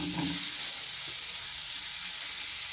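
Onions sautéing in melted butter for a tofu tikka masala, a steady, fairly soft hiss with a brief stir at the start, no voices.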